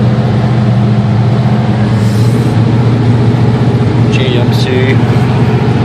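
A 1968 GMC half-ton two-wheel-drive pickup with a four-speed runs rough on a cold start, its low engine drone steady and close with a slight lift as the throttle is held, alone without talk.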